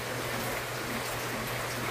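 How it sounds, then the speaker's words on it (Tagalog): Heavy morning rain falling steadily outdoors, a dense, even hiss with no breaks, moderately loud and close throughout with no voices. "ang lakas ng ulan ngayon umaga"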